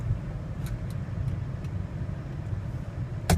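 Toyota 4Runner Sport Edition SUV rolling on concrete, a faint low engine and road rumble with a few light ticks, a brief sharp click near the end as it settles to a stop.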